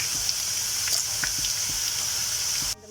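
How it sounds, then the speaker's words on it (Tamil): Small brinjal pieces fry in hot oil with a steady, close sizzle and a few soft stir clicks, then the sound cuts off sharply near the end. "அடுத்ததாக கத்திரிக்காவை ஃப்ரை பண்ணலாம்."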